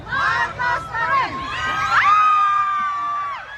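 A crowd chanting and cheering for Marcos at a political rally in Canada: loud, close shouting voices in rising and falling bursts, with one long shrill cheer or whistle holding toward the end.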